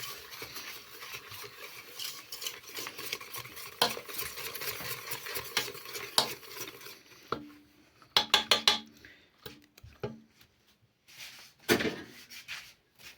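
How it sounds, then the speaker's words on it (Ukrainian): A spoon stirs sugar into a curd batter for syrnyky in a bowl, a steady close scraping that gives way to a few sharp clinks and taps near the end. "І це все гарно перемішуємо в однорідну масу."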